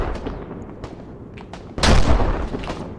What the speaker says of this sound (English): take the rocket launcher out and shoot the vehicle